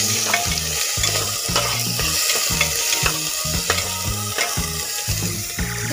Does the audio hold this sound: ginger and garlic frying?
yes